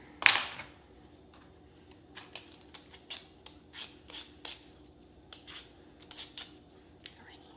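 Potatoes being peeled for latkes with a peeler, a loud scrape at the start followed by a series of short, quiet, irregular scraping strokes up close, with no talking.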